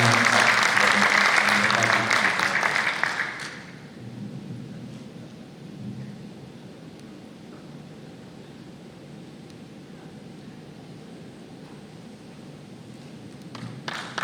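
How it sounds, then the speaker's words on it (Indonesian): A dense burst of applause from a conference audience at an opening ceremony, loud for about three and a half seconds, then dropping to quiet room murmur with faint movement. "Boleh kita beri tepuk tangan yang paling meriah"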